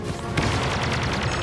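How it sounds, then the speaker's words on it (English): A grenade explodes in the video game Star Wars Battlefront II with a sharp boom. Crackling blasts and gunfire-like bursts follow and keep rumbling steadily at moderate loudness. "Grenade deployed."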